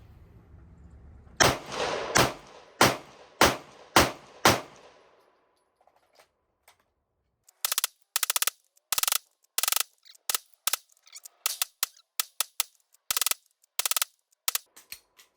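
Gunshots from a firearm during test shooting with an aiming system: about six loud, echoing reports in a steady rhythm, then after a pause a quicker, irregular string of sharp close shots, with no talking.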